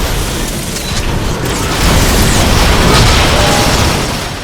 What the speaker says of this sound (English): I'm largely nonplussed by all of like the artillery going off for some reason